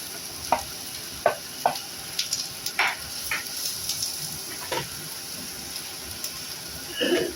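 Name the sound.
sliced snake gourd (chichinga) frying in oil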